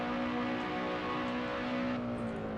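A car races at speed in Assetto Corsa, its engine holding a steady high-pitched drone with a smooth tonal whine throughout and no voices.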